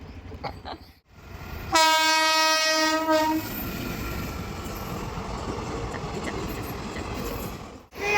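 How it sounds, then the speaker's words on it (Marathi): A train pulls into a station and sounds a loud, sustained horn for about a second and a half, followed by steady rumbling of the carriages rolling along the platform. "नेमकी ट्रेन आलेली आहे"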